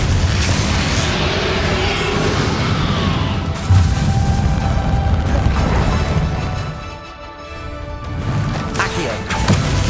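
Fiery Confringo spell blasts in the Hogwarts Legacy video game, a dense rumbling stream of booms and crashes that swells and dips across the whole stretch, with game voices and music layered in.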